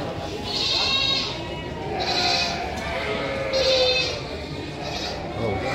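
Young sheep with ribbon-coloured fleece and black and white horns bleat repeatedly at a livestock market in Tanjungsari, Sumedang: wavering nasal calls recur every second or so, close and loud amid a busy crowd murmur.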